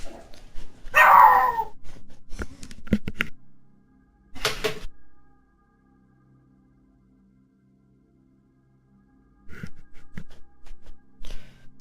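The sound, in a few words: dog barking in video game Deus Ex Invisible War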